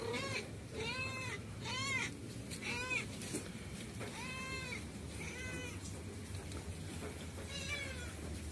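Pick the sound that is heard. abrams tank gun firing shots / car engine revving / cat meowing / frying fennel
cat meowing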